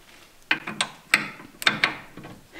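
Hand socket wrench turning a nut on the tie rod end of a Mercedes Vito W639, heard as a handful of sharp, close ratchet clicks in short irregular bursts against quiet workshop background, no talking.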